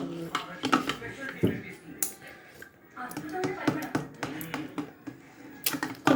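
A spoon stirs a lemon juice drink (nimmarasam) in a glass, making a series of sharp, irregular clinks and taps against the sides, close and fairly quiet, with a voice talking in between.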